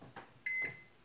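A microwave oven heating canned chicken noodle soup gives a quiet hum, then a short pair of sharp electronic beeps from its panel, close by.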